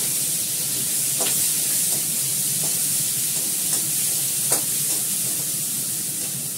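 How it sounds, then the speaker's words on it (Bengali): Potatoes and onions frying in a pan, a steady bright sizzle and hiss with a few soft stirring scrapes, close and continuous without talk. "আমি সবার প্রথমে দিয়ে দিচ্ছি আলু আর পেঁয়াজ, পরে জিরে ফোড়ন দেবো, এটা ভাজা হোক"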